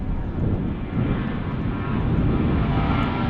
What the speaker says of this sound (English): We got a southwest departure here. Headed down the runway.